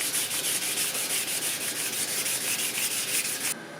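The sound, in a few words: sanding a wheel with 600 grit sandpaper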